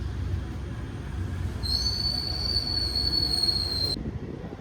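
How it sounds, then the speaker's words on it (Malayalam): The Vanchinad Express departs Kottayam station, rumbling along while its wheels let out a loud, sustained high-pitched squeal that cuts off abruptly, leaving the low rolling noise. "നമ്മുടെ ട്രെയിൻ വഞ്ചിനാട് എക്സ്പ്രസ് എടുത്തിരിക്കുകയാണ്"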